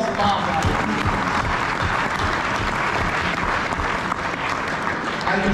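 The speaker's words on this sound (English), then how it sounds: "Let's give a round of applause to moms out there." Loud, sustained applause fills the room at a father-son steak fry with a keynote speaker, dense clapping from the crowd holding steady throughout with a murmur of voices mixed in.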